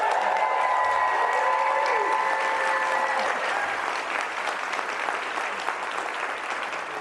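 Large conference audience applauding to welcome NASA astronaut Jonny Kim, a dense, steady wash of clapping from many hands that slowly tapers, with a brief electronic tone at the start.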